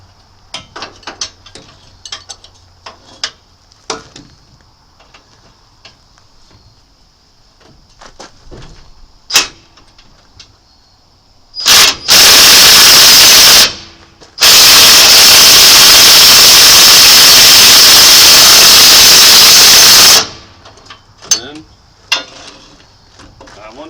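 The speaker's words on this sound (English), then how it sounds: "I'm going to go get the 1/2-inch impact, and then I know that sucker's going to come off" A 1/2-inch impact wrench hammers at a stuck bolt on a 1976 GMC K10 squarebody 4x4, in two loud, sustained bursts with a short gap between them. Quieter clanks and shuffling come before and after.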